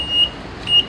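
Two short, high electronic beeps from a handheld explosives detector sound about half a second apart, clear and steady against a faint background hiss.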